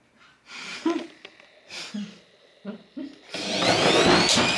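A vacuum cleaner runs loudly and up close at the end, after several short bursts of breathy sounds and voices speaking.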